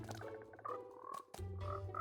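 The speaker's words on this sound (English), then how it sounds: "As you can see, there's frogs everywhere." Frogs croaking in Minecraft, a dense overlapping chorus of repeated croaks that briefly drops out near the middle before resuming loud and close.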